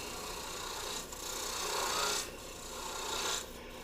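Spindle gouge cutting soft wood spinning on a lathe, a steady close rasping, tearing scrape that swells and eases in a few passes with no talking.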